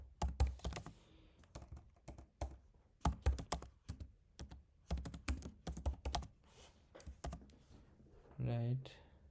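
Close, dry clatter of computer keyboard keys as code is typed, arriving in quick irregular bursts with short pauses, followed by a brief voice near the end.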